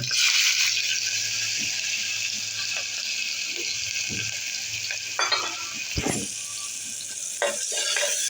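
Chopped onion, following a large green chili, drops into hot oil in a pan for a sprouted moong dry curry, giving a steady, close, bright sizzle with a few clinks and stirring knocks near the end.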